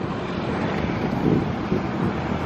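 Steady wind on the Marilaque highway in the Philippines buffets the microphone with a low, rushing roar, gusting slightly louder partway through; no voices.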